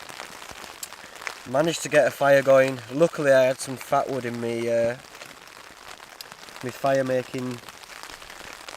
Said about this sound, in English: As you can maybe hear, it is raining.